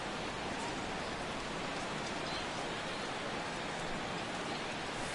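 Steady rain hisses over a baseball game in a PS4 video game, an even, unbroken wash of falling drops with no voices, ending in a single sharp click.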